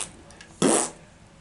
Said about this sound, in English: That dog farts morning, noon, and night